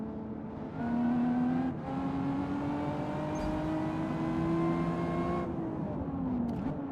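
A supercharged Toyota V6 in Gran Turismo 7 revs steadily, its engine tone rising and holding with a strong supercharger whine layered over the drone, loud and continuous with a brief dip partway.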